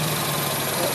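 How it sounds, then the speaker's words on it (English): A Jaguar AJ30 V6 fitted in a 1971 Gilbern idles steadily, a close, even mechanical hum running without a break for a brief moment. "The engine is free running. It's not coughing and spluttering like it was before. Idling fairly well."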